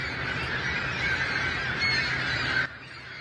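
Thousands of seagulls at a streetcar maintenance facility, a dense constant chorus of calls and squawks from a large flock, loud and continuous, with no voices.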